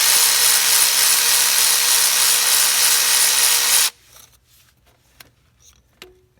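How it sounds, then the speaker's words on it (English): A power tool whirs steadily for about four seconds while bolts are removed from the valve cover of a Toyota RAV4, then stops, leaving faint metallic clicks and handling noises. "And then we're just gonna take these bolts off."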